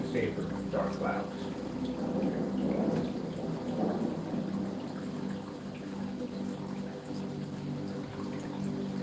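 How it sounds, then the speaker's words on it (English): Thunderstorm ambience from a lightning strike screensaver with dark clouds, a steady dense wash of rain and low rumbling thunder that swells and holds at moderate level throughout, with no voices. "Lightning strike screensaver,"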